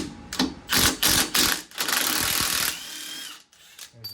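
Bursts of ratcheting from a 15 mm wrench loosening a front shock bolt on a Silverado during a leveling kit install, a quick series of close clicking strokes with brief pauses, ending with a lighter metallic clink.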